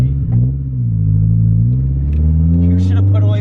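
Car engine revving at full throttle while running with no oil, a close, loud, rising and sustained drone with clattering undertones, a voice speaking over it.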